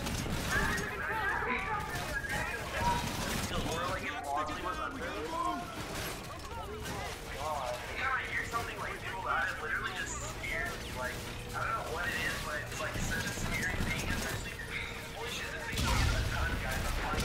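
Continuous gunfire and explosions fill a Call of Duty: Infinite Warfare battle, with bursts of shots and heavy impacts layered over music, while a voice talks over the action.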